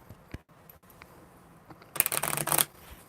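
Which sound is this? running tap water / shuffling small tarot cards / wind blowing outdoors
shuffling small tarot cards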